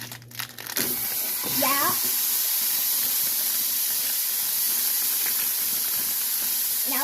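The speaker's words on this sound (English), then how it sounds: "now we're going to add our ground beef" Ground beef goes into a simmering tomato soup, beef and mushroom mixture, giving a steady hiss with crinkling and bubbling nearby. A voice speaks briefly at the start.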